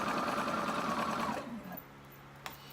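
A domestic sewing machine bastes ruffles with a dense, steady stitching whir that runs loud for about a second and a half, then cuts off, leaving quiet room tone and a brief small click.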